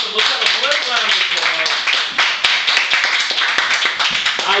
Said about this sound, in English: Let's have a great round of